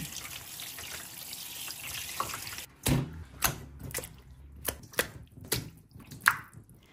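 Raw chicken, two kilos, rinsed under running tap water in a kitchen sink: a steady stream of water, then a series of sharp splashes and wet drips as the pieces are handled, fairly close.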